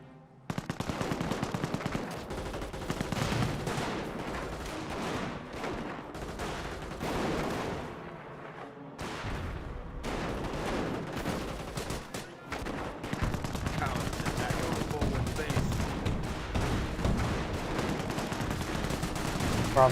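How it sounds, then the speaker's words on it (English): Rapid repeated gunfire and explosive launches in a Company of Heroes World War II battle, rifle grenades firing amid machine-gun bursts, dense and continuous throughout with a few brief lulls. "Rifle grenades firing away."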